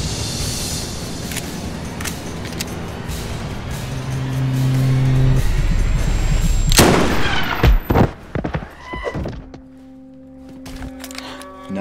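Gunfire rings out in a staged action scene, loud sharp shots mixed with engine roar and sustained noise, followed by a few separated bangs near the end and quieter ringing tones.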